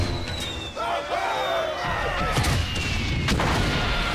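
Booming bomb explosions and artillery-like blasts in Valiant Hearts: The Great War, set during the Battle of the Somme, with a rumbling wartime backdrop and descending whistles before sharp impacts.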